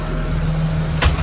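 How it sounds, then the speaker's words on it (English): A 2012 Blue Bird Vision school bus door shuts with a single short thud near the end, heard close over the bus's steady idling hum. "We just shut our door"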